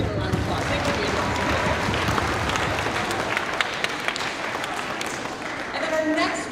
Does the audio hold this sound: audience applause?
yes